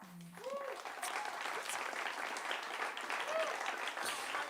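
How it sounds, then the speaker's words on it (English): An audience applauds a band's set at The Fallout Shelter live venue, the clapping steady and dense throughout, close and full, with a brief voice at the start. "You guys are really great at clapping."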